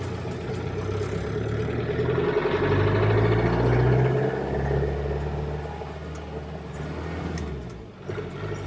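A Land Rover 110 Defender engine hums and drones on a test drive, a steady low rumble that swells and eases with gear changes, heard from inside the cab without talk.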